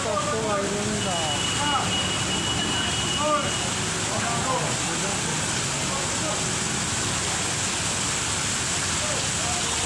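Heavy rain on Colon Street in Cebu makes a steady, dense hiss through the whole stretch, with voices and street bustle talking over it throughout.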